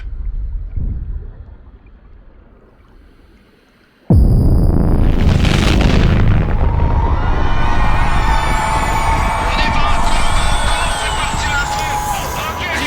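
A sci-fi sonic charge weapon fires, going from near silence to a sudden loud blast that swells into a rising, roaring, whining burst and stays loud and sustained to the end.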